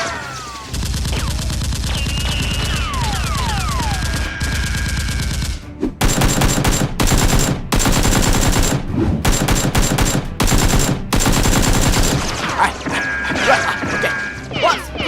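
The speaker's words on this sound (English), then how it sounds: "Lisa, shoot it!" Toy foam-dart blasters fire in rapid bursts during a Nerf war, with mechanical clacks, ratcheting priming and fast volleys. The shooting is loud and close, continuous with brief pauses, and faint whistly cries sit in the background.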